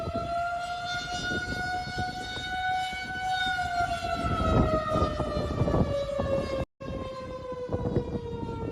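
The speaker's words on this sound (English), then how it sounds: "The eerie sound of tornado sirens has been all too common today" Tornado sirens wailing across the central U.S., a long steady tone sliding slowly down in pitch with rich harmonics and background rumble, sounding from a distance with a brief dropout near the end.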